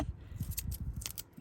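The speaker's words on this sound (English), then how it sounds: "I really need to clean these scissors." Sewing scissors are handled during Bargello quilting work, making a quick series of faint snips and metallic clicks in an irregular rhythm, close and quiet with no speech.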